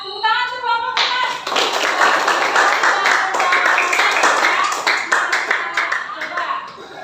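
Classroom applause for a student group, a burst of many hands clapping that starts after a brief spoken line and carries on steadily for several seconds, loud and close.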